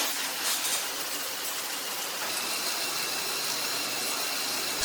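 Small LEGO speed car fitted with its third wheel type grinding across sand, a steady whirring motor drone with gritty broadband hiss and rattling that holds constant throughout, no voices.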